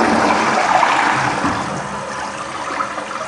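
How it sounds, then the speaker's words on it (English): A toilet just rebuilt with mostly Fluidmaster parts flushes in a steady, close rush of water that tapers slightly toward the end, with no voices. "You want to flush it more than one time to test it to make sure it's not leaking out from underneath here."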